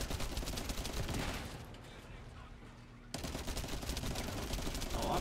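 Rapid automatic gunfire in a multiplayer shooter video game, dense continuous bursts that dip briefly and resume at full loudness, with players talking faintly underneath.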